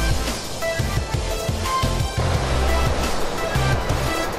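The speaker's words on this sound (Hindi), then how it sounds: "ये आप देख रहे हो ससोई डैम ओवरफ्लो" Heavy rushing water roars steadily and close as the Sasoi Dam in Jamnagar, Gujarat, overflows: a dense churning wash with no voices, a large flow spilling over a barrier.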